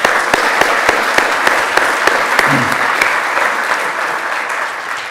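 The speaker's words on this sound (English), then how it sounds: "Let's give her a round of applause." Audience applause at a boardroom lecture, steady clapping from a crowd filling the room, sustained and fairly loud with a few sharper individual claps, fading slightly toward the end.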